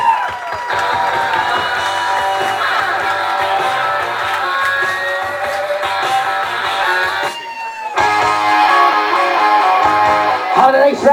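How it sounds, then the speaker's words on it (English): Wedding guests at a Massachusetts reception at the Wachusett Village Inn cheer and whoop for a bridesmaid, with loud sustained crowd noise and music throughout and a brief dip before the cheering resumes. "please put your hands together for our bridesmaid, Mackenzie Coakley"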